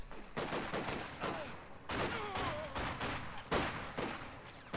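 MG42 machine gun fire in Company of Heroes 2, with dense bursts of automatic shots mixed into a busy battlefield of other gunfire and explosions, loud and continuous with no talk.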